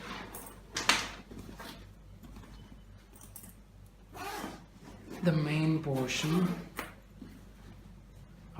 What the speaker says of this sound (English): Upon opening of the main zipper,